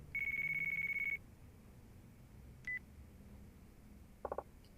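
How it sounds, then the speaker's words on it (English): Phone ringing in the Yakuza 4 video game: a long steady electronic tone, a short beep after a pause, then a quick trio of buzzy chirps, all thin and moderately quiet. "Uh-oh. Phone call."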